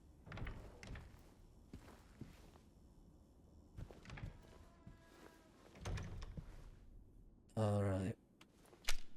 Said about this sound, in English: you unlock the door, but he doesn't fully open it